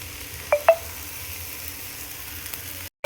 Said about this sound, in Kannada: ಒಳ್ಳೆ ಮಿಕ್ಸ್ ಕೊಡೋಣ ಮಸಾಲೆಗೆ, ರುಬ್ಬಿರೋಂಥ ಮಸಾಲೆಗೆ